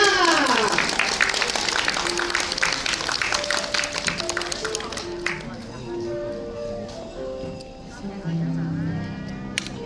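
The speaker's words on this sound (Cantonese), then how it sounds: "我哋俾大力嘅掌聲佢哋啦！" Dense applause for school award winners fills the first several seconds at close range, then thins out and gives way to scattered voices and higher tones that sound like light music.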